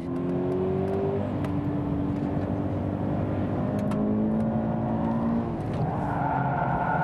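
A car engine runs during a drift driving demonstration, giving a continuous droning hum with shifting engine tones. It stays steady and fairly close for about seven seconds, and no voices are heard over it.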